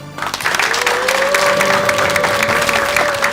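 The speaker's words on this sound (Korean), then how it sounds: "큰 박수로 맞아주십시오." A studio audience at a televised health lecture show applauds steadily, with dense, sustained clapping from start to finish and a faint tone running underneath.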